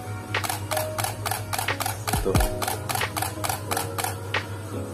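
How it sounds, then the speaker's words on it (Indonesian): Canon 60D camera shutter firing in a burst at 5 frames per second, a rapid, even train of about a dozen crisp mechanical clacks, close and clear over a low background hum. "Ini suara shutter 60D dengan 5 frame per second."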